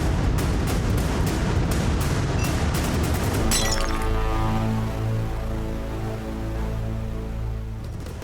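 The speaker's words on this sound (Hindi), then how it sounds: "इनको ये ग्लास टूटने की भी आवाज नहीं आई" Glass breaking indoors: a loud burst of crashing and shattering fills the first few seconds, then gives way to a sustained ringing, resonant tone that slowly fades.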